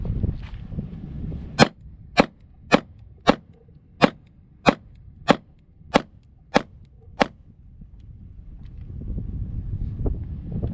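A Springfield Hellcat pistol fires about ten sharp shots in a steady, evenly spaced string, first strong-handed and then weak-handed, loud and close over outdoor wind noise that swells toward the end.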